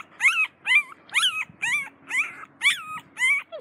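Border collie puppy whimpering in a steady run of about eight high, wavering whines at regular short intervals, close and clear, with a faint low hum underneath.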